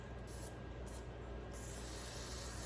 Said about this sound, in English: I'm just gonna use a little bit of hairspray because I don't want too much